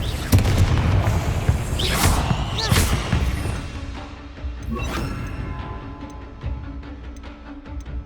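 A Confringo spell explodes in the video game Hogwarts Legacy, a burst of loud booms and crashing impacts with whooshes that fades into a rumbling tail.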